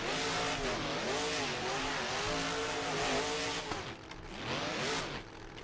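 A Monster Jam truck engine in the Rigs of Rods driving game revs loud and steady, its pitch rising and falling in waves, then dips briefly before roaring back up.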